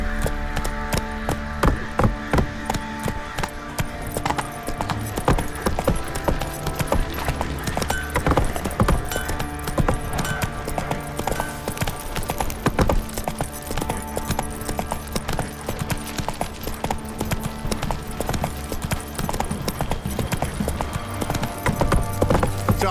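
Horse hooves clip-clop steadily in Witcher 3, a rhythmic trotting gait that stays loud and close throughout, layered over the game's ambient sound and music with no talk.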